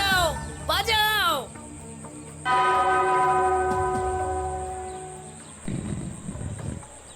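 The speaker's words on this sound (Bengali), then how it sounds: "ওই ঘন্টাটা বাজাও, বাজাও।" A bell in a cartoon rings once with a clear, sustained metallic tone that slowly fades, framed by brief animated voices and sound effects before and after.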